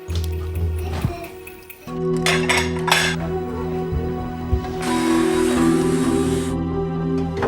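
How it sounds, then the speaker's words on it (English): Dishes and cutlery clink and clatter in a kitchen sink during washing up, a steady busy mix of chinks, knocks and running water, close and fairly loud throughout. "Do the dishes."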